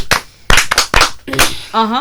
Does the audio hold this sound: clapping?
yes